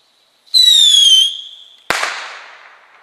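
A firework launches with a loud rising whistle, then bursts in one sharp bang that fades out into crackling; it is heard outdoors and close, with no talking.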